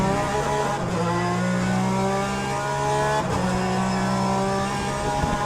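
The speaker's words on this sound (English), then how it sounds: "The pneumatic pump, yeah, it's really distinctive." A race car in the ACC racing game at Zolder, with a high screaming engine note that shifts pitch through gear changes and a distinctive pneumatic pump whine, loud and continuous with no talk.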